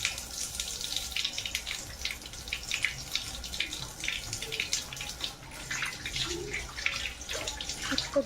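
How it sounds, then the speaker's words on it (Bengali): Tap water runs while hands are washed, a soft continuous splashing stream with small irregular spatters, fairly faint and without talk. "হাত একটু ধুয়ে নেব।"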